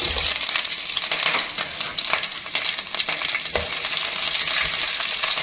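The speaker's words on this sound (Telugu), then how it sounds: "జీలకర్ర, మిర్చి వేసుకోవాలి." Cumin seeds and green chillies frying in hot oil for a Telangana mirchi pulusu, giving a loud, steady sizzle with scattered pops and crackles throughout, and no talking.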